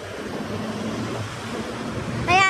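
A steady, noisy rush of wind blows throughout at Shau Kei Wan, Hong Kong, broad and hissy, with a short whistling sound breaking in at the very end.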